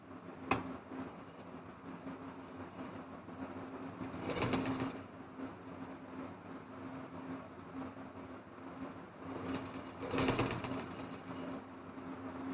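Sewing machine stitching the neckline of a net baby frock, a quiet steady mechanical whir with a faint hum and occasional louder bursts of rattling.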